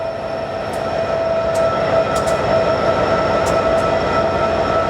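A coal-hauling locomotive train rolls past close by, a loud continuous rumble with a steady tonal drone and occasional faint squeals and clanks from the wheels.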